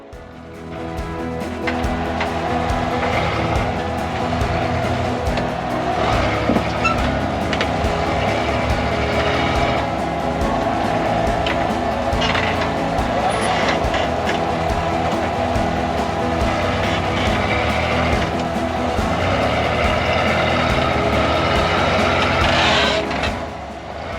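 An off-road rock crawler grinds through a boulder section at King of the Hammers in Johnson Valley, its engine droning loud and steady, with low rumble and scraping throughout.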